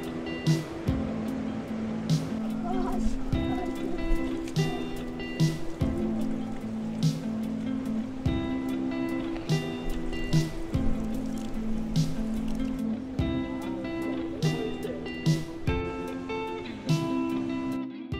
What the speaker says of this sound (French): Et la rivière qui coule au fond.